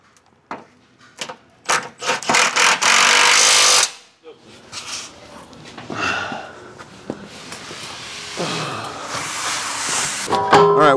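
Bolts on a Ford Bronco skid plate are driven tight with a power tool in short bursts followed by one long buzzing run, then clanks, rubbing and handling noise in a garage as people talk.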